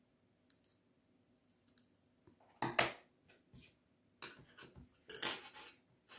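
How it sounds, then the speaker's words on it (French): Scissors snip through yellow yarn during a crochet project, giving a few sharp, close metallic clicks in quiet surroundings. "On va pouvoir couper notre fil"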